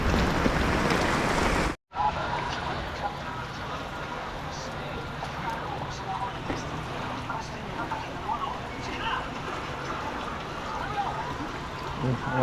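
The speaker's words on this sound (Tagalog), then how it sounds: "Lumakas pa ulit ng ulan." Heavy overnight rain during flooding, a steady, fairly faint wash of hiss that runs on without pause after a brief cut near the start.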